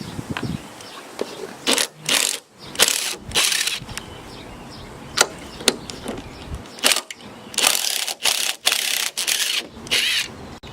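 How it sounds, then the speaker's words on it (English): Ratchet wrench with a 13mm socket backing out subframe bolts on a Chevrolet Cobalt SS, heard as repeated bursts of clicking pawl with short pauses between them, close up and without talk. "I'm gonna be using a 13mm to remove the bolts"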